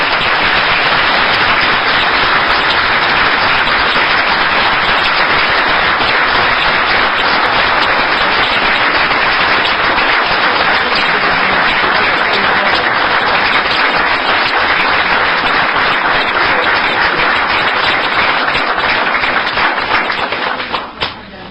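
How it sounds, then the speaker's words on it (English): Long, loud round of applause at a city council meeting, dense sustained clapping from a full room that keeps up steadily for about twenty seconds before tapering off at the end. "deserves a loud round of applause at least 3 times tonight"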